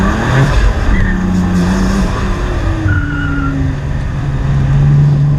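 A BMW M3 with traction control off drives hard around a race track, its engine droning loudly and steadily, with intermittent tire squeal and skidding as it corners.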